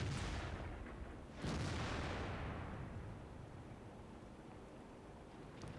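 A heavy tank's cannon fires twice in a World of Tanks battle, each a deep booming blast, the second followed by a long rolling rumble that slowly fades.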